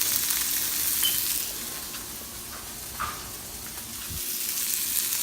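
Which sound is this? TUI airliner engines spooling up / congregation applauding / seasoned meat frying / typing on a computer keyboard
seasoned meat frying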